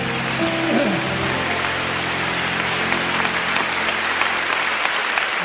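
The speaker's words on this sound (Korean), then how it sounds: "우리 하나님께 큰 박수 올려드립니다." An audience at a Korean diaspora church mission conference applauds steadily, a dense wash of clapping that carries through the whole clip while a brief tone sounds near the start.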